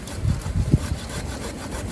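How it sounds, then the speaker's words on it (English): Silky hand saw cutting a mugo pine branch outdoors, a few quick rasping back-and-forth strokes, fairly faint and close with light background noise. "So let me cut this off."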